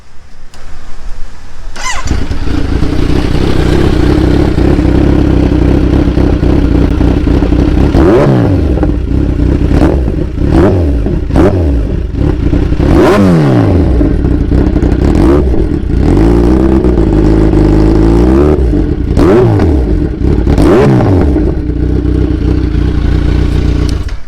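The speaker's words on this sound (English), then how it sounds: "let's go ahead with cranking up the engine and seeing what the exhaust sounds like" A Kawasaki Ninja 1000 motorcycle engine cranks to life, then idles loudly as the throttle is blipped in repeated sharp revs, close up with a rumbling exhaust.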